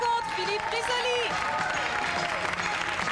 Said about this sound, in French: Un champion qui est applaudi comme il se doit